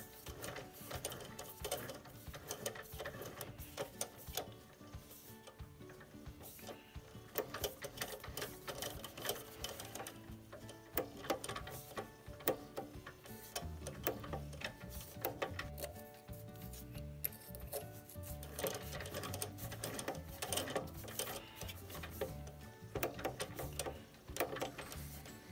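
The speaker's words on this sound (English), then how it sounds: "It's important to back up your tap every once in a while to clear the chips out" A straight flute tap cuts threads on a Harbor Freight mini metal lathe: a faint, continuous mechanical whirring and grinding with irregular scraping ticks throughout, no voices.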